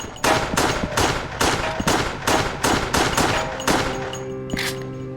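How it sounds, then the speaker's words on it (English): Rapid gunfire in the Wii game Resident Evil: The Darkside Chronicles, a loud, close series of about a dozen sharp shots at an irregular but steady pace, with a metallic tone sounding near the end. "We're just walking around and shooting everything"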